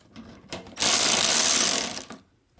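Ratcheting wrench clicks in a rapid burst as a bumper cover bolt is undone on a Hyundai Elantra, loud and close, with a few lighter clicks before and after.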